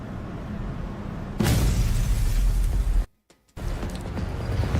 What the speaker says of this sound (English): There's another explosion, which sounds like it came from much closer this time.